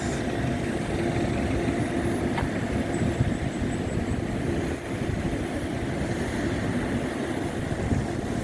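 An airplane engine drones at Ninoy Aquino International Airport, a steady broadband roar with a low rumble holding for several seconds, heard from some distance.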